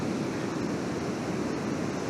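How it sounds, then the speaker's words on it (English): Steady ocean surf washes continuously and fairly loud, a broad unbroken roar of breaking waves with some wind mixed in and no voices. "I hope you could hear more than just the waves."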